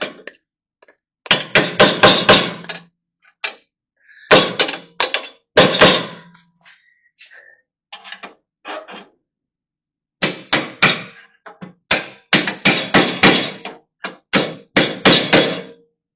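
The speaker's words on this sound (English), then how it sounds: "I'm going to have to tap that bolt up just a little bit" Hammer tapping a bolt into a trailer hitch: clusters of sharp, ringing metallic strikes in quick runs, separated by brief pauses and a few lone taps.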